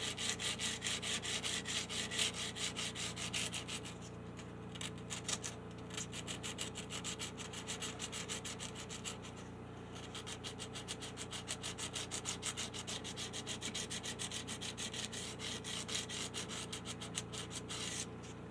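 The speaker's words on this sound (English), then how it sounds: "I think I'll hit it with a little sandpaper. This is feels like 320, I think." Sandpaper, about 320 grit, rubbed over wood in a low-budget build: steady, close, continuous rasping strokes in a fast even rhythm that run through the whole stretch with no talking.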